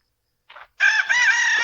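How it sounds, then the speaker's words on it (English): A rooster in a yard crows loudly and close, one long strained cock-a-doodle-doo after a short clucking note, with no other sound around it. "I got chickens in the yard."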